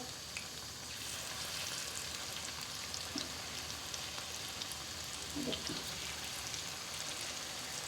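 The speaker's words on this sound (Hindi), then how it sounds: "देखें सारे सर्कल की तरह हमने डाल देंगे पकौड़े।" Pakoras dropped into hot oil and frying, a steady, even sizzle that holds at a moderate level throughout, with a few faint clinks and soft bumps over the constant crackle.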